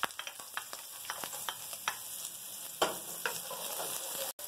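Onion frying in hot oil for a guajillo chile broth, with a dense crackling sizzle and scattered sharp pops, close and steady throughout, no talking.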